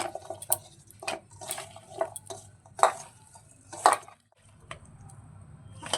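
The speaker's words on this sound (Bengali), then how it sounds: "ভালো করে নুনটা মাখিয়ে নেব।" Raw mango pieces tossed with salt in a bowl by hand, producing irregular clinks and scraping knocks against the bowl with wet squelching, a dozen or so distinct hits spread unevenly, close and fairly quiet, with a brief pause near the end.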